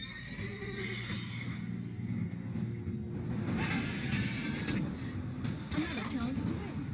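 A horse whinnies amid busy background noise in the video game The Witcher 3: Wild Hunt, with hoof clatter and faint voices mixed in.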